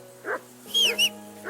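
A dog in Kingdom Come: Deliverance II gives a short bark, then a higher whining yelp pair, followed by another bark at the end, brief and close against a steady low hum.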